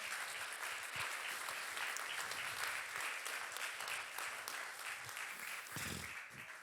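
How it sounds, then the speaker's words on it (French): A church congregation claps in sustained, dense applause during a Sunday service, continuous and fairly distant, with a few louder individual claps standing out. "j'aimerais entendre un applaudissement de ceux qui croient qu'ils sont reliés à Dieu ce matin"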